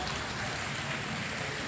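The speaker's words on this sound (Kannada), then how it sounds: "ಈಗ ಒಂದು ಅರ್ಧ ಗಂಟೆಯಿಂದ ಮಳೆ ಸ್ಟಾರ್ಟ್ ಆಯಿತು." Steady rain falls in Gundlupet, a dense, even hiss of drops on surfaces that holds at one level from start to finish with no other sounds.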